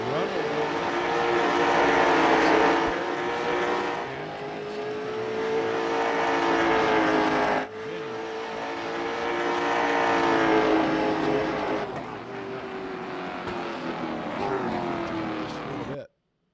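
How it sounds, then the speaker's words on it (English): Late model stock race cars roar around Thompson Speedway in a loud, continuous engine drone that swells and fades as the cars pass. An announcer talks over the noise. "We'll turn those daggum loud old cars down a little bit."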